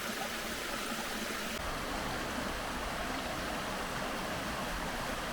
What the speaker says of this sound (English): Little waterfalls absolutely everywhere.